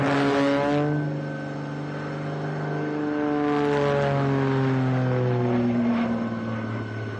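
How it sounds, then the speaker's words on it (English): A propeller airplane performs aerobatic maneuvers at the Wasatch Air and Space Show in Utah, its engine droning steadily and loudly with a sweeping pitch that rises and falls as the plane passes. "the propeller spinning backwards with the torque of the engine"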